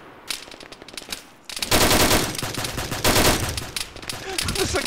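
Automatic weapon fire in the ArmA military game during a ShackTac session, beginning with scattered shots and then breaking into loud, sustained bursts of machine-gun fire and overlapping volleys, with a voice faintly mixed in.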